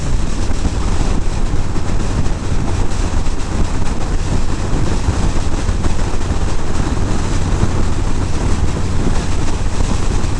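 Headwind buffets a rider on a 2018 Harley Davidson Street Bob with no windshield, a loud, constant roaring rush of wind noise with low rumble throughout, close to the microphone and unbroken.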